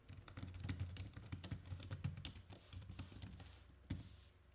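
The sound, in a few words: typing code on a computer keyboard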